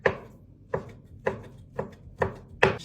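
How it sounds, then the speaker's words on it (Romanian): A knife chops smoked ham lengthwise on a board, six sharp, evenly spaced thuds close by, each with a brief ringing knock and no voices. "O tăiem. Iată așa tăiem în lung."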